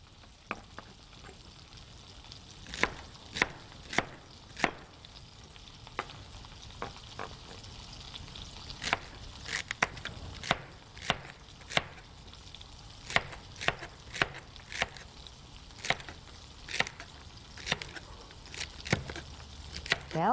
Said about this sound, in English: I'm just chopping up my celery.